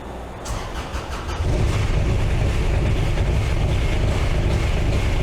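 A cold engine after winter cranks with a rapid stuttering churn, then catches and settles into a loud, steady, rough idle close by.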